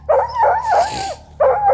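A young hunting dog on a bear hunt gives loud, close, high-pitched yelping barks and whines, two drawn-out cries separated by a short gap, with no talking over them.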